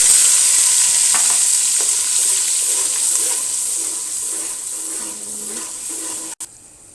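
Spice paste frying in hot oil with four or five green cardamom pods for a restaurant-style meatball curry, a steady loud sizzle with occasional stirring scrapes, close up, fading slightly toward the end with no talk.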